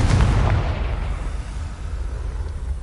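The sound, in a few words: Confringo explosion spell cast in video game Hogwarts Legacy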